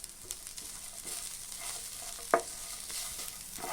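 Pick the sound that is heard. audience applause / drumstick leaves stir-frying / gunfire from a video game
drumstick leaves stir-frying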